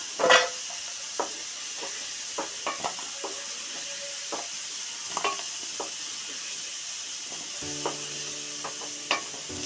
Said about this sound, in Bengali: আলুগুলো আমার হয়ে গেছে ভাজা। এই দেখো, এবার আমি তুলে নেব।